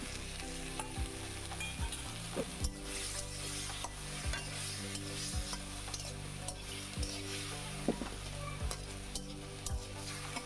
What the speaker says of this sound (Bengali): আমরা চিকেনটা ভেজে নিব, সাথে আমি চিংড়ি মাছ কুচানো দিয়ে দিই।